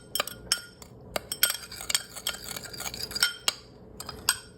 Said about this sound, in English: I'm gonna take some of this juice. I'm gonna mix it together.